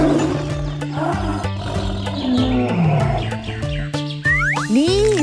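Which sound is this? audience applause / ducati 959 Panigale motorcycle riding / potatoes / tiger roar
tiger roar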